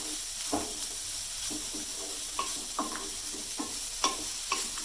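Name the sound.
sautéing grated carrot in a pan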